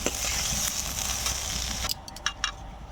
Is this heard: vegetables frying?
yes